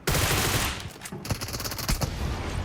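Gunfire in the mobile battle royale game PUBG Mobile, first a dense continuous burst of automatic fire, then after a short gap a rapid string of loud, overlapping shots, close and harsh.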